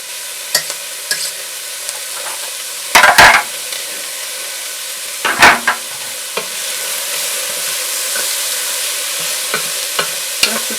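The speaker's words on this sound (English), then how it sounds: "Just to saute for 5 minutes. Onion and garlic smell good." Onion and garlic sauté in a pan for chili, giving a steady bright sizzle throughout, broken by a few loud scraping stirs of a utensil against the pan and lighter occasional taps.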